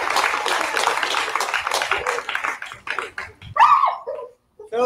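Audience applause at a K9s For Warriors graduation ceremony, a sustained burst of clapping that tapers off, with a dog yipping and whimpering near the end.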